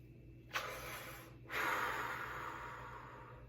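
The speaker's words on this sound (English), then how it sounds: "just that you're breathing in and pushing out" A brass section warmup breathing exercise: a sharp, close inhale followed by a long, forceful exhale pushing air out, with no talking.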